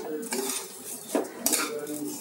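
A spoon stirs basanti pulao in a pot, scraping and clinking against the metal in a few uneven strokes. A faint sizzle runs underneath.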